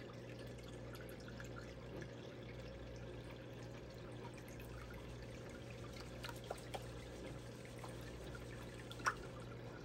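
Water washes through a gold sluice loaded with dirt, a steady low rush and trickle that stays faint and even throughout, with a few small splashes.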